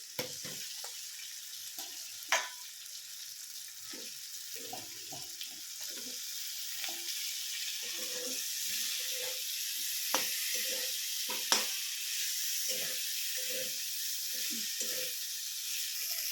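Okra frying in spiced oil in a pan, a soft continuous sizzle with scattered faint stirring clicks and scrapes, fairly quiet and with no voices.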